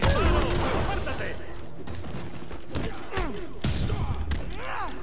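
Gunfire crackles in Marvel's Spider-Man video game, with short bursts and thuds mixed into busy combat noise while characters shout in Spanish over the fight.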